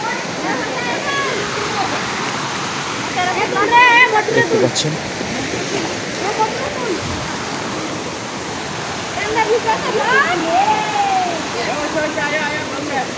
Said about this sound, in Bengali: উপরে এক বিশাল পাহাড়, পাহাড় থেকে ঝরছে পানি,